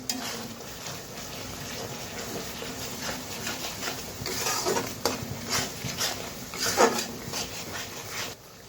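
Spoon scraping and stirring a cashew, poppy seed and melon seed paste in a pan, soft repeated clinks and scrapes with a faint sizzle, building slightly toward the end.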